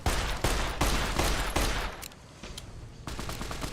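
Rapid revolver gunfire in Fallout: New Vegas, a dense run of loud shots that thins briefly in the middle and then resumes.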